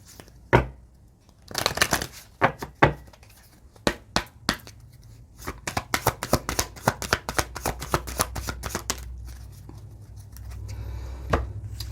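Playing cards being shuffled to draw an affirmation card: several crisp riffles and snaps, then a fast, dense run of flutters that settles into rustling, close and loud with no talk.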